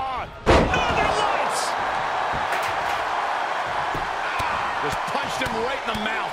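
A heavy body impact in a WWE 2K22 wrestling match between Tazz and British Bulldog: one sharp, loud thud near the start, followed by steady arena crowd noise and commentators talking.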